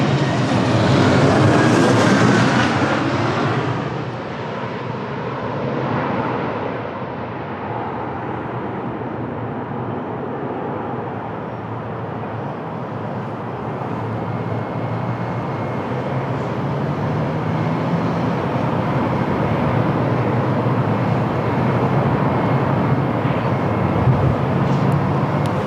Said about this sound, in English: the next to land it's a small Embraer 195 from Porto